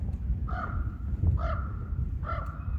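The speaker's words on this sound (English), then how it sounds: "that's a raven" A raven gives three hoarse caws spaced about a second apart in an outdoor city park, heard at moderate distance over low rumbling background noise.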